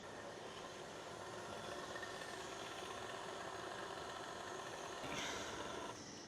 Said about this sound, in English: Now pop that in your KitchenAid with the paddle attachment.